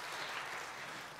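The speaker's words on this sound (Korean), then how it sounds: "위원님께도 입장 감사의 박수" A brief, soft burst of steady clapping from the audience at a Catholic church forum in Jeju, heard at a distance with no voices over it.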